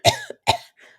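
Two harsh, close coughs in quick succession, followed by a faint breathy trailing sound, performed by a voice during a reading of Crime and Punishment.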